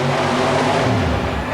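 Nitrous-injected, Ford wedge-powered super modified mud racer launching off the starting line with some tire spin at an indoor mud race in a stadium, a loud, steady engine roar filling the whole moment with no pause.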